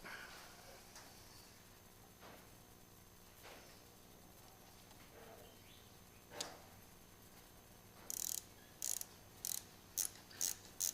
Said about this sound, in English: I don't use these ratchet spanners often